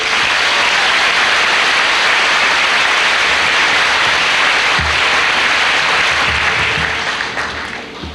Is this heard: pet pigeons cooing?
no